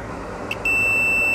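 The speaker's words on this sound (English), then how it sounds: "Let's go ahead and check with our multimeter in beep mode to see what the status is of that particular area." A multimeter in continuity mode, probing traces on a fire-damaged original Xbox board, gives two brief chirps, then a steady, loud, high-pitched beep holds to the end.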